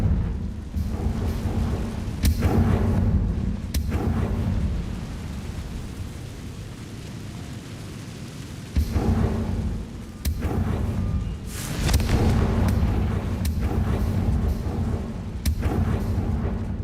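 Confringo fire-blast spell exploding in Hogwarts Legacy, several loud booming blasts with sharp cracks and a rumbling, rain-like roar between them, no talking.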